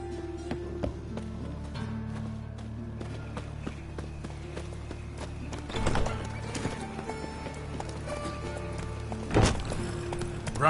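Hoofbeats from Geralt's horse Roach in The Witcher 3: Wild Hunt, a steady clip-clop rhythm over a low game-music bed, with two louder thumping bursts partway through.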